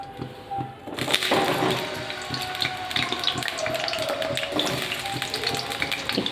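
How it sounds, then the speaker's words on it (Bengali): Potato pieces sizzle in hot mustard oil in a pan, a steady close crackle and spatter that begins abruptly after a brief quiet start and carries on throughout. "প্রথমে আমি আগে আলুটা ভেজে তুলে রেখে দেব"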